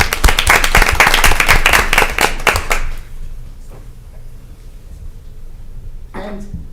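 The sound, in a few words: audience applause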